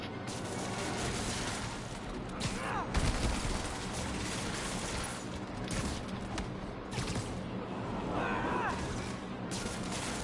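Gunfire in the PS5 video game Spider-Man Remastered: several sharp shots and crashes over a steady game soundscape with whooshing effects, fairly loud, and no voices over it.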